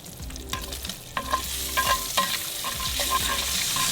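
Bacon frying in a pan on a flatbread cook's stove gives a steady loud sizzle, with several clinking, scraping strokes of a utensil through it and no talk.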